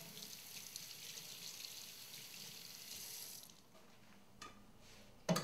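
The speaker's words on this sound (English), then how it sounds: "Before you cook, you always have to wash your hands." Running water from a kitchen tap pours steadily into a sink as hands are washed before cooking Japanese food, a continuous hiss that cuts off midway, followed by a few faint clinks and a brief knock.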